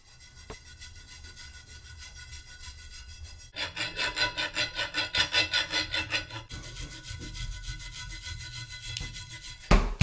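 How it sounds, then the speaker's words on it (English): Wire brush and thread chaser scrubbing the threads of a reused pipe riser during a mobile home renovation: quiet rubbing, then a burst of fast rhythmic scraping strokes, then steadier rasping close up, with no talk. "we've thoroughly cleared the threads with our wire brush and our thread chaser"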